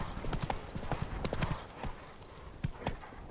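Roach, the horse in The Witcher 3: Wild Hunt, gallops with rapid, close hoof clip-clops in a steady rhythm, the beats crowding together and fading somewhat toward the end over a light background.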